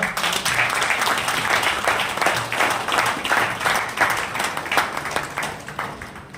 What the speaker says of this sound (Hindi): ताली तो बजाओ यार